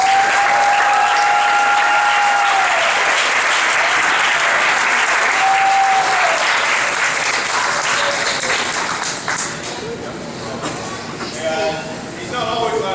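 Loud, steady applause from a graduation audience for an officer, a dense crowd clatter that holds for about nine seconds before thinning into scattered claps.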